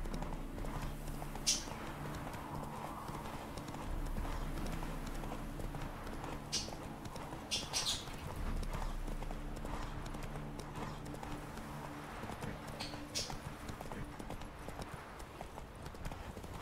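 Roach the horse gallops in The Witcher 3, her hooves clip-clopping in a steady, continuous rhythm at moderate volume over a low background bed of game sound.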